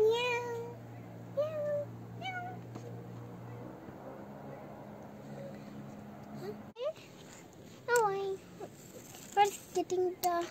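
A neighbour's cat meows repeatedly and close by, several separate calls with pauses, while people talk quietly around it.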